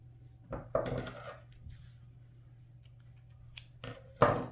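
Scissors snipping off yarn while finishing a crocheted smiley face granny square: a few quick, close cutting snips spaced across a quiet stretch, the last one sharpest and loudest.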